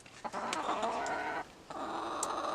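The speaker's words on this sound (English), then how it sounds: "I have 4 hens and 1 rooster" Backyard chickens, hens with a rooster, cluck in short, repeated bursts close by, with a brief pause partway through and no talking.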